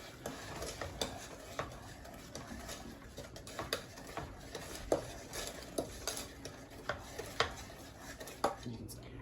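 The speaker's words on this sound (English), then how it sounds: "you are not going to want to stop stirring until this is brought to a boil" Fudge mixture being stirred in a pot with a wooden spoon, with steady rhythmic scraping and light knocks against the pot, close and fairly quiet.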